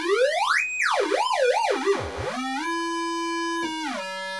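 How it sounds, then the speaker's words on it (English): A DIY 4046-chip VCO synthesizer module outputs a buzzy square wave, its pitch swooping up, wobbling in quick sweeps, diving low, then settling into a steady sustained tone, loud and alone. "It's also a square wave output, and it sounds like this."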